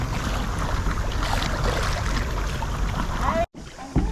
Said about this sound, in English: I need to paddle one side, Mum paddles the other.